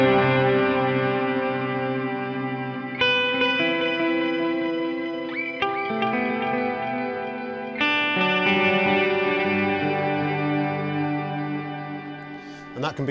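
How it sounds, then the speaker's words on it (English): Electric guitar on the bridge pickup played through a Boss DD-500 digital delay pedal in shimmer mode, sustained chords blooming into octave-shifted, reverberant echoes that layer and trail off. "And then shimmer, so this is our octave based effect."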